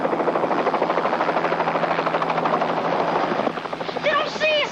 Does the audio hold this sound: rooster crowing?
no